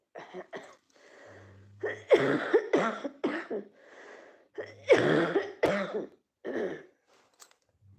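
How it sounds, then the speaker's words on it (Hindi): Several harsh, wet coughs close by, coming in uneven bursts with short pauses and throat-clearing between them, and a faint low hum underneath. "बहुत बेकार खांसी पकड़ी है।"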